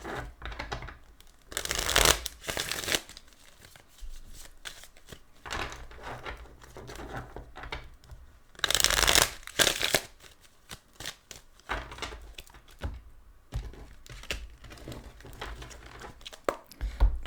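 Bursts of tarot cards being shuffled, two loud riffling flurries and quieter shuffling in between, close up with no talking.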